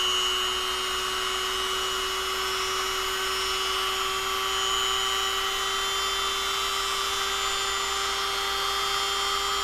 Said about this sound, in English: Make sure to drill your hole while it's still attached to the paper.